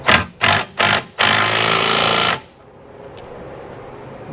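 A power tool tightening skid plate bolts on a Jeep XJ, three short loud bursts then a sustained longer run of harsh mechanical hammering before it cuts off, leaving quiet background.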